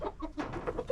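Chickens cluck in a series of short, repeated calls at a bird sanctuary in Dhirkot, Azad Kashmir, close and fairly clear with a steady background murmur.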